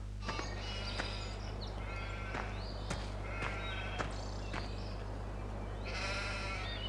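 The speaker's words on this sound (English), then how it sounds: "these are the sheep." Sheep in Farming Simulator 15 bleat several times over a steady low engine-like hum, with sharp clicks scattered between the calls and a longer bleat near the end.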